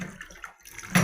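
Water from soaked rice being drained off for puttu, splashing and trickling in short uneven spurts with a brief pause, then a louder final gush.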